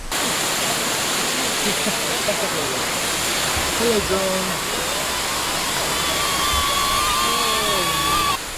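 A waterfall in Skagway, Alaska roars as a steady, broad wash of rushing water, with a few distant voices and whistling calls faintly over it.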